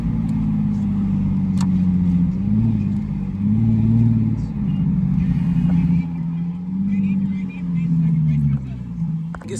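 Dodge Challenger and Lexus IS300 exhausts give a steady, loud low rumble that swells in a few revving surges, with voices talking over the engine noise throughout.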